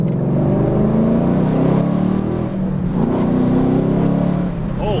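Deep, loud exhaust roar from a car with a Corsa Sport H-pipe exhaust, heard from inside the cabin as the engine revs and holds a throaty muscle-car drone throughout.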